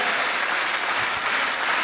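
A concert audience at the Rosedal applauds the bandleader and his musicians in a dense, even wash of clapping, loud and unbroken for the whole short stretch.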